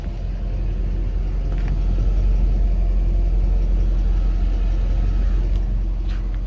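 A Mercedes SL500 idles nearby with a steady, low rumbling hum, even and continuous, with no voices.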